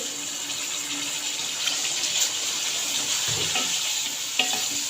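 Tomato paste and spices frying in a karahi give a steady, close sizzle with a bright hiss, broken by a few soft stirring scrapes.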